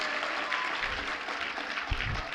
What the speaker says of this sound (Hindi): तालियां होनी चाहिए जोरदार।